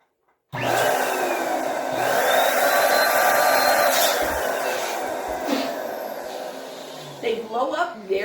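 An electric balloon inflator blows up 11-inch Prima latex balloons with a steady, loud motor whoosh lasting several seconds, then cuts off and gives way to rubbery squeaks as the balloons are handled.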